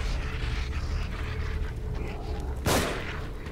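A single sharp gunshot at enemies in The Evil Within cracks out loudly near the end, over a steady low ambient game drone.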